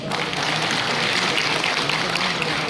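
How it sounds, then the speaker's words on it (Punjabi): An audience at a government school education ceremony with awards by district gives a dense, continuous round of applause, loud and even from start to finish. "ਤੇ ਤਾੜੀਆਂ ਦੀ ਗੜਗੜਾਹਟ ਤਾਂ ਜ਼ਿਆਦਾ ਹੈ ਕਿਉਂਕਿ ਲੁਧਿਆਣੇ ਦੇ ਸਾਥੀ ਜ਼ਿਆਦਾ ਆਏ ਹੋਏ ਆ"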